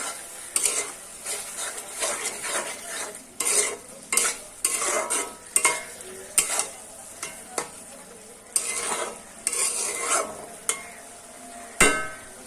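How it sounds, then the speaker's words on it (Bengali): A spoon stirs eel fish curry in a pan after a pinch of garam masala goes in, giving repeated scraping and clinking strokes in an irregular rhythm over a soft sizzle, close and moderately loud, with no talking. "এখন এর ভিতরে আমি একটু গরম মশলা গুঁড়ো দিব একদম অল্প একটু সামান্য একটু যদি একটু নেড়ে দিব"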